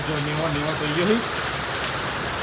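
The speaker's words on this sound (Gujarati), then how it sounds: "વરસાદ ફૂલ ચાલુ થઈ ગયો" Heavy rain pours during a storm at a farmhouse, a dense steady hiss close by, with someone talking briefly at the start.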